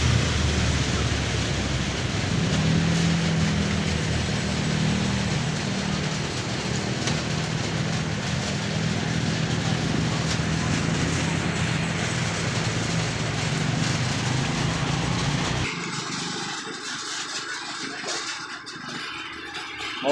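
Heavy rain falls outdoors as a dense, steady roaring hiss that stays loud for most of the stretch, then thins abruptly near the end.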